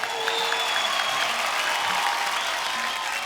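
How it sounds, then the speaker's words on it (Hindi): A studio audience applauds the Hungama 2 cast on a Hindi comedy talk show, a dense, steady roar of clapping that holds at full level throughout with no talk over it. "एक बार जोरदार तालियां हंगामा 2 की सुपर टैलेंटेड कास्ट के लिए।"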